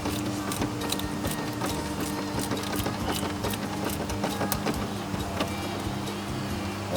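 A ratcheting screwdriver drives screws to secure a car stereo faceplate during a double DIN touch screen install, with rapid clicking mechanical ticks close by and steady background hum.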